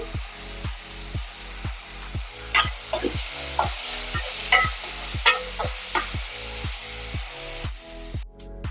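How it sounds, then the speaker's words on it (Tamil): Ten garlic cloves and a small piece of ginger sauté with chopped tomato in a pan, a continuous soft sizzle broken by regular scraping stirs. "நல்லா வதக்கிக்கலாம் பத்து பல் பூண்டு ஒரு சின்ன துண்டு இஞ்சி"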